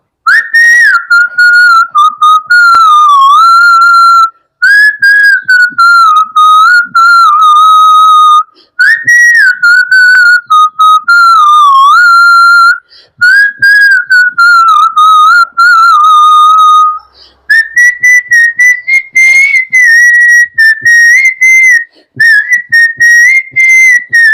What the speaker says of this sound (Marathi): मी शिट्टीतून गाणं म्हणून दाखवणार, ते गाणं कुठलं आहे हे आम्हाला आवर्जून कळवा